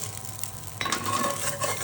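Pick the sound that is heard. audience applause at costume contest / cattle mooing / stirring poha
stirring poha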